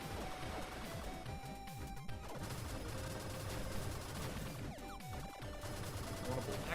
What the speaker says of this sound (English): It's just a machine gun.